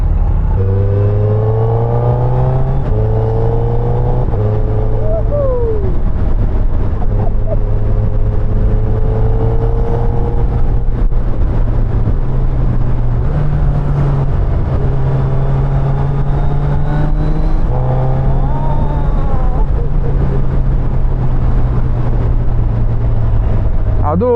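A motorcycle is ridden at half throttle with a passenger aboard, producing a loud, continuous engine drone that steps up and down in pitch as it shifts, under rushing wind and with voices faintly mixed in.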